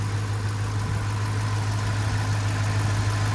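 A used car at a public auction idles steadily, a low, even engine hum with mild vibration that holds close and constant throughout, with no voices over it.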